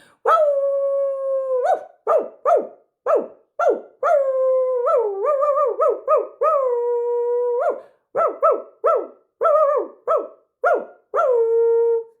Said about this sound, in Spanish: el perro simplemente está inquieto, no sabe lo que hacer, sí, ladra un poco, pero es un ladrido muy distinto, no tiene ese toque de angustia de fondo